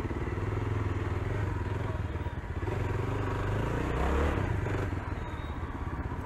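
A Yezdi Adventure motorcycle is ridden, its engine giving a steady, close throbbing rumble with slight surges and some clatter throughout.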